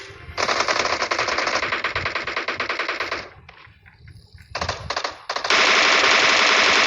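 Automatic machine gun fire in the PUBG Mobile video game, loud sustained bursts of rapid shots with a short pause midway before the firing resumes.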